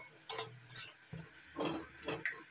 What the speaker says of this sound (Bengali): এবার নাড়াচাড়া করে একটু রান্না করে নেব।